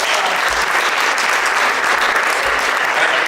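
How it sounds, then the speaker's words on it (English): Steady audience applause for a trombonist at a university spring jazz festival, a dense wash of clapping from a large crowd that holds at even loudness throughout. "Please give her an applause."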